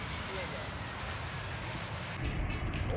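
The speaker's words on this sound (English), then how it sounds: "It even has airplanes." An airplane passes over a golf course, a broad, steady engine roar filling the background and swelling slightly toward the end, with voices partly audible beneath it.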